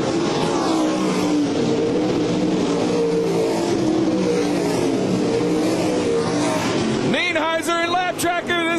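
Race cars roaring around an oval raceway during a heat race, a dense sustained engine drone with cars passing, loud and continuous, while a commentator talks over it, and sharper tonal engine notes rise near the end.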